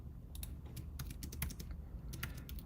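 Fast, irregular clicking of keys on a computer keyboard, fairly quiet and close, running in short bursts with brief pauses and no talking.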